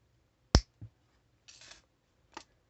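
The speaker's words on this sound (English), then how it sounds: "So I'm going to cut a little bit of extender chain here." Cutters snipping through a small jewellery extender chain, one sharp close click followed by a softer snip, then faint metallic rustles of the chain and another light click in a quiet room.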